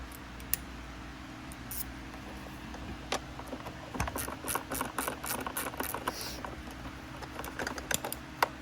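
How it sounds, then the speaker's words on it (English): A ratchet wrench loosening an 8 mm nut on a Bissell Pet Hair Eraser vacuum during a cord rewind repair, quick bursts of close mechanical clicking that grow busier in the second half, with no talking. "We have a nut here at the back that I'll pull that off, and we should just be able to separate it. 8mm."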